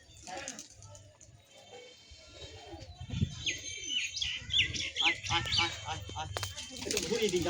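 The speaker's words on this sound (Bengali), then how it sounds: "একটা পায়রা এসেছে" Pigeon sounds at a rooftop pigeon-catching spot, soft coos and chirps mixed with wing flaps among other birds, under frequent nearby talk.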